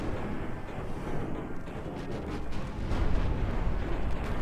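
Warship guns in a dreadnought naval game thump in quick succession as low, rumbling booms, fairly faint and muffled, growing heavier toward the end with no voices over them.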